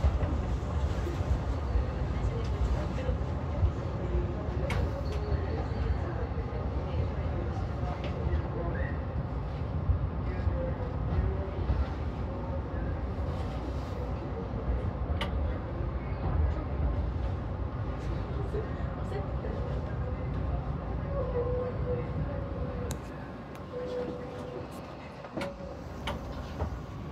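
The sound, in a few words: electric train departing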